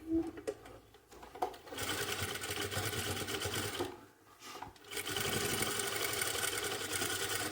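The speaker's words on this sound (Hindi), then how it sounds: "देखो यहाँ से सिलाई की शुरुआत करनी है।" A sewing machine stitching a jacket runs in bursts of rapid mechanical whirring, pausing briefly midway before starting again, with a few taps and handling noises at the start.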